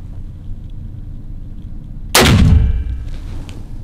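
A .454 Casull revolver fires a single sharp, loud shot at the Taurus firearms factory, the crack followed by a brief ringing decay over quiet room tone.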